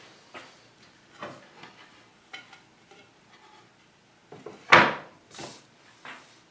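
Hinged wooden lid of a repurposed Singer sewing machine cabinet swung shut, a few soft creaks and taps building to one sharp thump of closing, followed by lighter knocks and rattles, close by in a quiet room.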